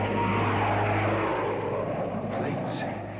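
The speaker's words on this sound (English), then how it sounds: "Planes? How low they're flying?" Low-flying airplanes roar overhead in a loud, steady engine drone that slowly fades and thins toward the end, with voices faintly audible underneath.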